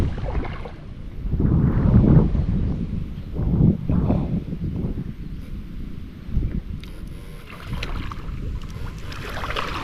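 Strong wind gusts buffet the microphone beside a fish pond stocked with tilapia, producing deep rumbling surges that swell and ease over several seconds, loud and close, with no talking.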